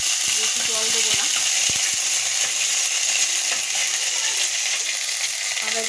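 Food with green chilli frying in a pan makes a continuous bright sizzle, with a few light metallic clinks early on and no talking.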